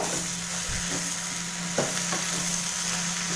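Grated coconut and coriander leaves are stirred into beans and green gram palya in a pan on a stove over low heat, with a soft continuous sizzle and occasional scrapes of the spatula.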